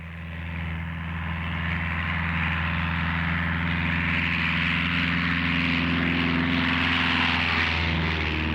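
Propeller airplane engine droning steadily in a cartoon scene, a loud continuous low hum with a broad airy roar that holds for the whole stretch, with no talk.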